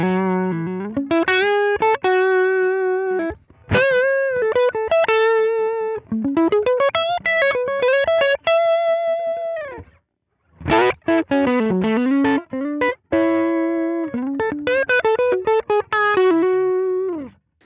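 A Vigier Expert Retro 54 electric guitar on its neck pickup plays through a Line 6 Pod Go modelling a Fender Princeton amp and cab, with lightly driven, chorused single notes and bends in short phrases separated by brief pauses.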